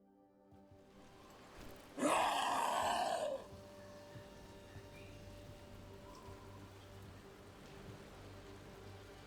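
Rain in a video game scene, a steady soft patter under a sudden loud burst of rushing noise lasting about a second, then settling back to a faint continuous shower.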